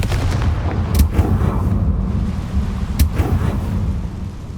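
Confringo spell blasts in the Hogwarts Legacy video game go off as two sharp, booming explosive bursts about two seconds apart over a low rumbling game backdrop.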